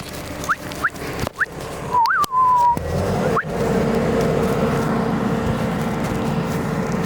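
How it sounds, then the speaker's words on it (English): Short rising whistle chirps outdoors, then a longer wavering whistled note, heard close over steady background rumble at a pond build site. "Me whistling."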